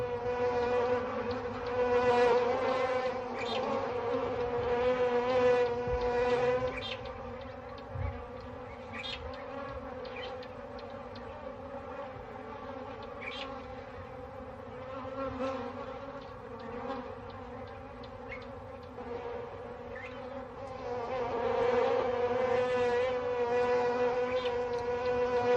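A swarm of bees buzzes continuously in the African bush where lions have been resting, a steady droning hum that swells louder at the start and end with individual insects passing close by.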